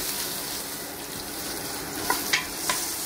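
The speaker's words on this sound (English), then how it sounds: "So I'm just going to give it a good quick stir." Wild mussels sizzle in a hot pan on an induction cooker while being stirred, a steady bright frying hiss with a few sharp scraping clinks toward the end.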